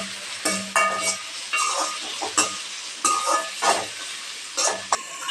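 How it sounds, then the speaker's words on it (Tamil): Onions and tomatoes sauté in a pan under a constant sizzle, with repeated rhythmic scrapes and clacks from a spoon stirring close by. "இப்போ தக்காளி சேர்த்துக்க போகிறோம். இது நல்லா வதங்கணும்."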